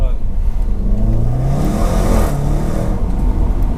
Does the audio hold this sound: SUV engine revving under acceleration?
yes